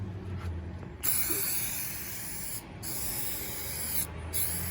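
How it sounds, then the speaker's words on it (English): Close hissing bursts of spray adhesive applied onto foam for a truck headliner, three sustained sprays separated by short pauses. "I just simply spray more adhesive on the foam"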